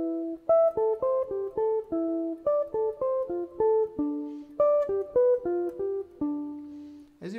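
A jazz guitar plays a clean, close sequence of plucked single notes outlining four arpeggios over a major turnaround, each note ringing distinctly in an even rhythm, ending with a brief string scrape.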